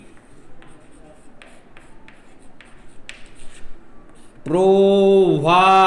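A pen writes on paper during a class lesson, with soft scratching strokes over several seconds before a loud sustained tonal sound abruptly takes over near the end.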